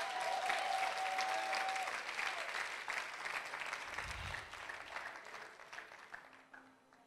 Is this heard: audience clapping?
yes